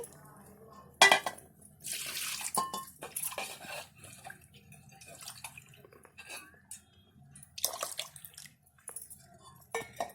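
Cooked dal is poured into a pot of homemade sambar, giving scattered wet splashes and pot clatter with quiet gaps in between, close and moderately loud.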